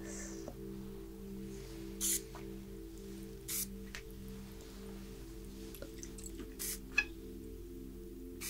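Lavender mist spray puffs out in several short, soft, hissing bursts spaced a few seconds apart, heard close up over a quiet, steady, humming background.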